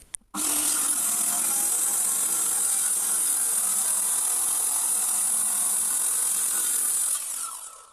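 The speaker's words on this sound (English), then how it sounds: "if I trim the end of this off, the blade should come just to the side of that screw" Power saw cutting through the end of an old wooden door, a steady loud whine running continuously for about seven seconds after a brief start, then winding down.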